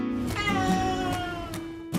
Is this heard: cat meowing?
yes